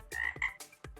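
Cartoonish toad croaks from a magic-spell programming game, several short bursts in an uneven rhythm, clear and close with no talking.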